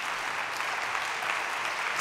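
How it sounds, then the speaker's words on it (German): Audience at an extraordinary state party conference in Duisburg applauding a speech, a dense, steady wash of clapping from a large hall with no voice over it. "Und jetzt können auch die Schalker klatschen,"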